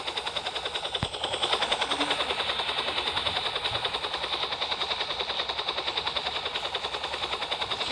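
A helicopter in a video game drones steadily for the full stretch, its rotor beating as a dense, continuous whir at a fairly loud, even level with no voices over it.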